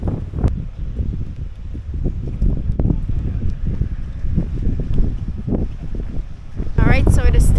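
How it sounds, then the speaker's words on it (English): A strong morning wind blasts across the microphone on the Camino Francés between Logroño and Santo Domingo de la Calzada, making loud, gusty buffeting and rumble that swells near the end. "what a windy morning"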